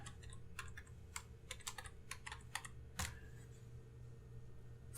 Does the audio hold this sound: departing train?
no